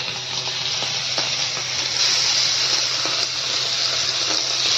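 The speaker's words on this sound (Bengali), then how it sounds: "এবার আমি চিংড়ি মাছটা ভেজে নেব, বড় বড় চিংড়ি মাছ" Large prawns frying in a pan, a steady loud sizzle running throughout with no voices.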